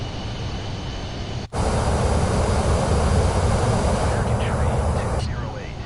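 Jet airliner engines spooling up during a landing approach in Microsoft Flight Simulator 2024, a broad steady roar rising after a brief dip and holding loud, with faint tonal whines near the end.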